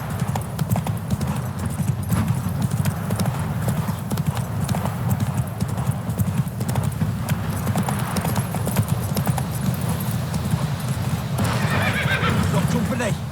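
In a video game, the horse Roach trots with steady clip-clop hoofbeats and neighs, close and loud under continuous game music and spoken dialogue.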